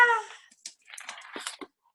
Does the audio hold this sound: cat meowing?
yes